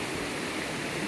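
Steady, dense rushing of a waterfall, a continuous broadband roar with no breaks or voices.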